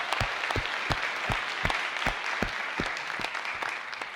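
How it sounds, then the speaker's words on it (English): Town hall audience at an opioid recovery meeting applauding, with distinct sharp claps standing out over a steady bed of clapping from a moderately sized crowd, fairly close and even throughout. "You're clapping for yourselves because it was a community effort."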